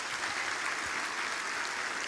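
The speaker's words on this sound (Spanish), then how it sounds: "Un aplauso al Señor." Church congregation applauding for the Lord in a steady, even wash of clapping from many hands, continuous through the moment with no voices standing out.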